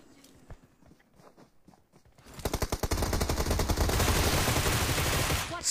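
Gunfire in the mobile video game PUBG Mobile: a few sparse shots first, then a dense burst of rapid automatic fire that builds and carries on loudly to the end, with no voices.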